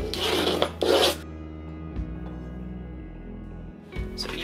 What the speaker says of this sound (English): we need to do is burnish where we have just scored